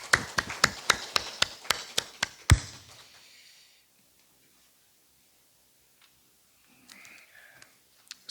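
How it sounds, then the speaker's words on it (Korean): A church congregation claps for the Hosanna choir in about ten sharp, evenly spaced claps in unison, then the room falls almost silent. "우리 호산나 찬양대 격려의 박수를, 하나님께 영광의 박수 올려드리겠습니다"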